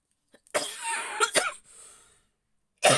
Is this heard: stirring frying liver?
no